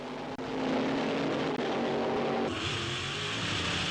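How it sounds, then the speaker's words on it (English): A big yellow 1934 Coupe drag racing car roars loudly at full throttle as it powers down the strip, a sustained engine scream that shifts pitch partway through as it passes, with no talk. "Robertson's big yellow 34 Coupe powered to the win with an 867 at 218 kilometres an hour"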